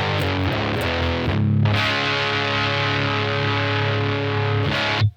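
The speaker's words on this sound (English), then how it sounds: "Now you're going to get more saturation, and you're also going to get more of the, just a slight bit of volume, but it's more of a distortion involvement." Electric guitar played through a FUZZimp Obtainium Overdrive pedal with its volume turned up, giving thick, saturated, fuzz-like distortion; sustained chords ring loud and steady, with a brief break near the middle and a cutoff at the end.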